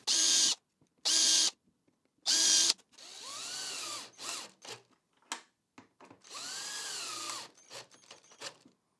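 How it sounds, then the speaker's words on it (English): A power drill pre-drills holes for lid hinges on a DIY compost bin, with three short whirring bursts followed by longer rising and falling drilling runs, close and loud, no talking. "make sure just to pre-drill the holes"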